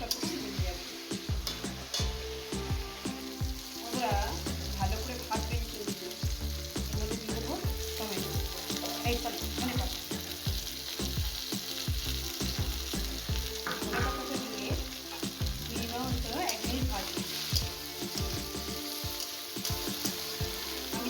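Raw tomato mash frying with spices in a pan, a steady loud sizzle running throughout with frequent scraping stir strokes, no voices.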